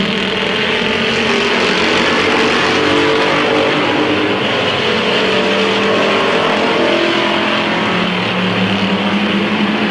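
Race cars roar around Midvale Speedway in a 1995 race, a loud, steady wall of engine noise that holds for the whole stretch with no gaps.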